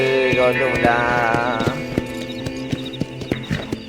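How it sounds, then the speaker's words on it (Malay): A horse in Red Dead Redemption 2 whinnies at length, then its hooves clop in a steady, close rhythm on the ground. "Kenapa kuda ni tak nak berlari?"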